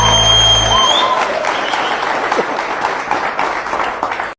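An audience claps. The applause is steady, dense and moderately loud, with a brief tonal sound at the start, and it runs unbroken until it cuts off sharply at the end.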